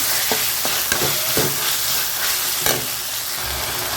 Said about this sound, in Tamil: இப்போ வந்துட்டு நம்ம தக்காளி போட்டுடலாம் தக்காளி கொஞ்சம் வதங்கட்டும்